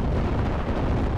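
A Crusader AA gun downs an ME-109 in Steel Division: Normandy 44, and the hit comes as a loud, continuous roaring blast that fills the whole moment without any break.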